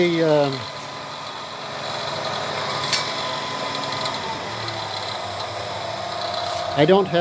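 Motor of a Harbor Freight lathe running at a little over half speed, giving a steady mechanical whir and hum that holds an even pitch throughout, with a brief clunk midway and some handling noise at the start and end.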